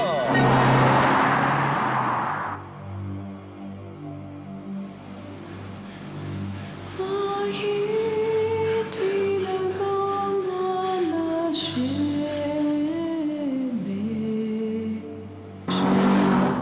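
Alfa Romeo 159 engine droning through the final stages of a race, a steady engine note rising and falling in pitch as it accelerates, with loud bursts of noise at the start and end.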